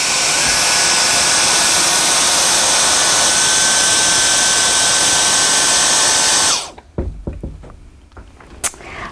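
A Dyson DC44 cordless stick vacuum runs with a loud, steady whine for about six and a half seconds, then cuts off abruptly, leaving a few quiet knocks and handling clatter.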